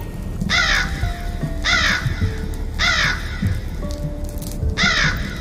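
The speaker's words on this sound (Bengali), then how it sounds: "কাকটা ওই দাগের চারিদিকে ঘুরতে লাগলো, কিন্তু বেরোলো না।" A crow cawing in four loud, harsh calls spaced about a second apart, close and clear over a low background rumble, with no talk.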